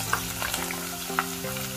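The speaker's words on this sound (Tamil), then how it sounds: "இதோ நாங்கள் வெண்டைக்காயை பொரிக்கோம்." Sliced okra fries in hot oil in a pan for a Sri Lankan-style curry, giving a steady crackling sizzle with a few sharper pops.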